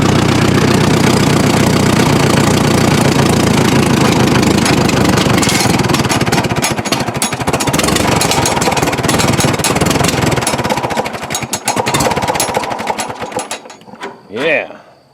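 An old Farmall tractor engine on bad gas runs rough near idle, a loud uneven knocking chug close by that stumbles and fades toward the end.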